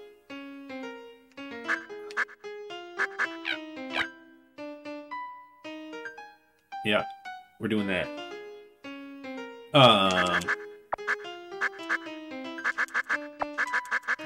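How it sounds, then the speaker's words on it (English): Loud, repeated duck quacks from the Piggy Dizzle video game, blasting in bursts over busy game music, with a person talking briefly during it. "this is the loudest quacking of all time"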